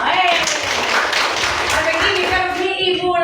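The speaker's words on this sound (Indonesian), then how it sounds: "Tepuk tangan dulu buat kita semua." A classroom of children claps together in a steady, dense patter of many hands, loud and near, with children's voices mixed in throughout.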